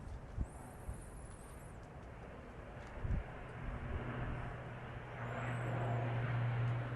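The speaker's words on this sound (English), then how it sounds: "I like the sound of that airplane." A small propeller airplane drones overhead, faint and distant at first and slowly growing louder, with a few soft thumps nearby.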